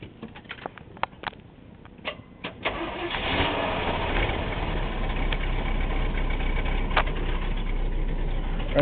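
An old Chevy truck with low brake fluid cranks with a few quick clicks and turns, then catches after about three seconds and settles into a steady, fairly smooth idle close by. No voices are heard.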